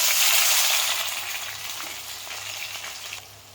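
Onions sizzling in a pan with spices, curry leaves and coriander for a soya kofta curry, a steady bright hiss of frying that slowly fades, with no talk.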